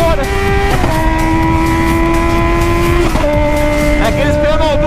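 Honda Hornet and several other motorcycles at a night street meet, loud revving engines rising and falling in pitch with gear shifts, close up and continuous, with voices faintly underneath.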